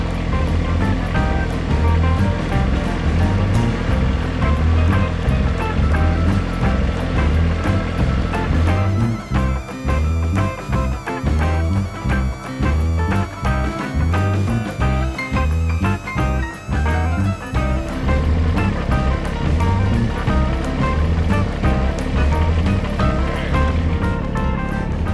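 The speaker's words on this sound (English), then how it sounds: "So the next thing we're gonna do is drive this tractor down to the forest road." A Kubota BX compact tractor drives toward a forest road, its engine chugging in rhythmic pulses that stand out most in the middle stretch, mixed with heavy broadband wind-like rush throughout; no talking.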